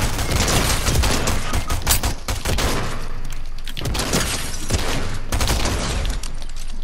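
Rapid bursts of gunfire in the video game Fortnite, loud and close, with dense volleys and short pauses through the whole stretch and no talk over it.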